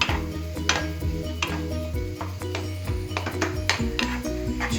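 Wheat flour halwa (aluva) being stirred in a pan, loud close scraping and clanking of a utensil against metal in a steady rhythm over a low sizzle, no talking.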